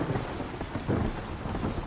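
Rain and rolling thunder in the video game ARK, a continuous wash of rainfall with repeated low thunder rumbles swelling and fading, no speech.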